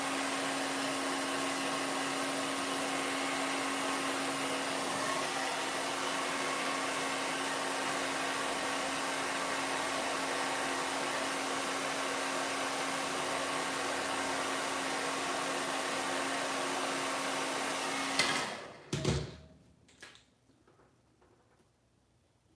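A hair dryer whirs steadily with a constant hum for a long stretch, then clicks off and leaves a few soft knocks before quiet.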